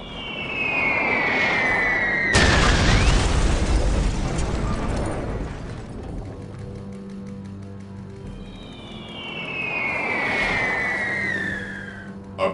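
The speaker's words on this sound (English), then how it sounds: "Artillery, open fire!" Imperial Guard artillery opens fire in the Warhammer 40,000 strategy game Dawn of War: Dark Crusade, with a whistling incoming shell, a heavy explosion and rumbling aftermath, then another shell whistling down.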